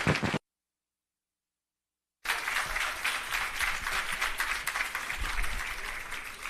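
An audience at the Parnassus Agro Park launch and irrigation system commissioning claps after a performance; a brief burst is cut by about two seconds of total silence, then steady, close applause resumes and carries through to the end.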